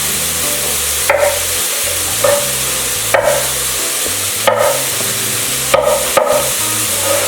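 Potato chunks roasting in a pan for a rustic Indian curry, a steady sizzle broken by about half a dozen scraping stirs, close and loud with no talking.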